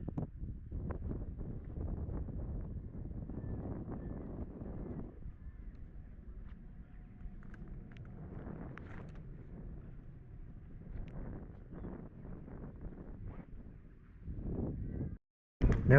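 Wind buffets a microphone outdoors in a steady, low, rumbling roar that swells and eases, dropping to near silence for a moment before a final gust.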